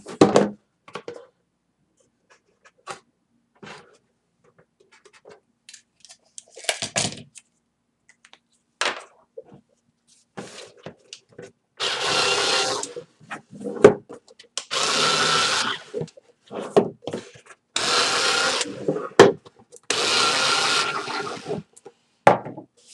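A cardboard shipping box for coffee mugs being cut and scored, with scattered short scraping and tapping bursts followed by several longer, louder rasping cuts in the second half, close by and without voices.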